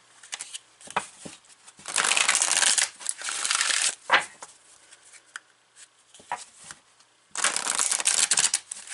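A deck of Native Spirit oracle cards is shuffled by hand in several bursts of crisp riffling and flicking, close and fairly loud, with short quiet pauses between bursts and no talk.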